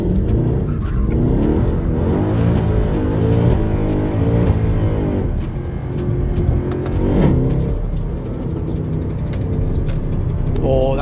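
6.2L V8 Mercedes C63 AMG drifting, its engine revving hard and loud with rising and falling surges over about eleven seconds, sliding tire noise underneath and a voice briefly heard.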